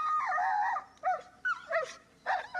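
A reactive mixed-breed dog vocalizes near other dogs, giving short bursts of high whining yelps and yips separated by brief pauses, close and fairly loud.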